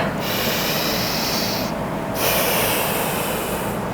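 A deep inhale through the nose during a breathing exercise sounds as a long loud rush of air, breaking off briefly partway, then resuming, with no talk.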